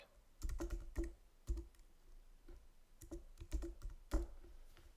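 Fingers type a serial number and other details on a computer keyboard, giving bursts of close, crisp key clicks with short pauses between groups of strokes and no voices.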